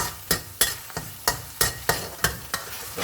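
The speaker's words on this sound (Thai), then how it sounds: "ผัดให้มันหอมนะพี่น้องเนาะ ผัดให้มันหอม" Rhythmic stir-frying of aromatic paste in oil in a pan while making Thai chu chee snapper curry, with about nine sharp scraping strokes of the spatula against the pan over a low sizzle, close and steady, no talking.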